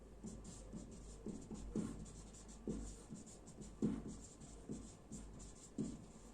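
Chalk or marker strokes on a board during an algebra lecture, a steady series of soft scratching taps at roughly even intervals, close and quiet, with no talking over them.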